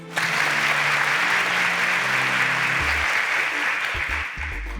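Studio audience applause for semi-finalists on a Nigerian quiz show, a dense burst of clapping starting abruptly and holding steady, with a faint musical sting beneath it.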